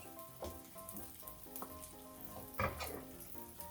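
Tuna patties without an egg coating pan-fry at medium heat with vegetables, giving a soft, steady sizzle with small crackles and a brief louder spatter near the end, faint and close.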